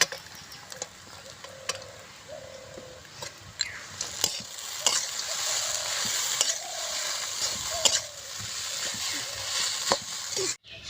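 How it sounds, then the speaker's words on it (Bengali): Egg chowmein is stirred and fried in a pan, with a steady low sizzle broken by sharp clicks and scrapes of the spatula against the metal, close and fairly quiet. "চাউমিন মশলা দিয়ে একটু মিশিয়ে নেব।"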